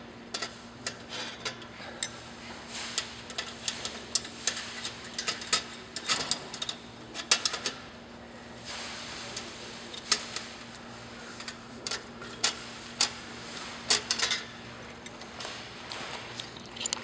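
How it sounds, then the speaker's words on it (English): A screwdriver turns a screw into a LiFePO4 battery rack, making a series of small irregular clicks and ratcheting ticks in short bursts over a faint steady hum, close and with no talk. "you get a good grip on it and turn it in place with the screwdriver"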